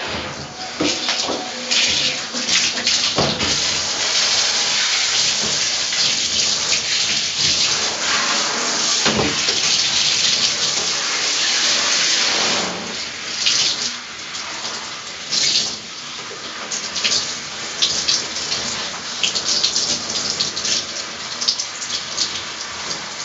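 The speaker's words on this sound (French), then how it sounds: "je rince à l'eau tiède froide cette fois" Lukewarm-to-cold tap water streaming over hair during a shampoo rinse, a dense hissing spatter that swells and breaks into irregular splashes, loud and close, with no talk.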